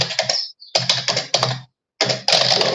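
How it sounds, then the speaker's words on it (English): Someone types a message in Microsoft Outlook on a computer keyboard, producing close, rapid bursts of key clicks separated by short silent pauses. "you're typing up a message and you're putting loads of info in there"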